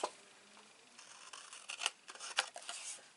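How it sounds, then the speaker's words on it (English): Small scissors snip through paper while a mini album is being crafted. A few quiet, close cuts come in quick succession, with faint rubbing between them. "So I'm going to grab my little scissors."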